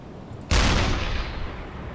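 A single sharp, heavy blast from a submarine deck gun in the U-boat video game UBOAT, close and loud, with a long rumbling tail that slowly fades over about a second and a half.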